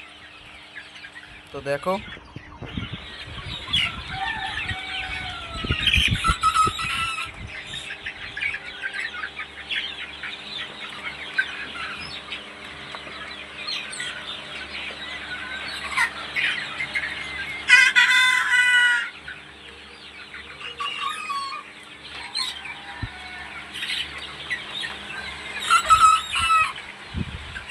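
A dense chorus of chickens over 1 kg in weight clucks and squawks continuously in a poultry shed, with louder bursts now and then, while someone speaks briefly nearby.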